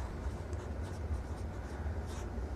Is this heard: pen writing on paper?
yes